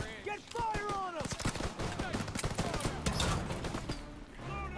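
Dense gunfire in the World War II shooter Call of Duty: WWII, rapid machine-gun bursts and rifle shots filling the scene as voices shout over the battle.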